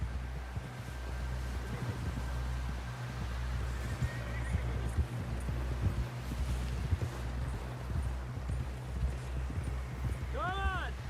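Horse hooves clip-clop in the Red Dead Redemption 2 video game, a steady pounding gallop with a whinny near the end, heard under faint background sound and voices.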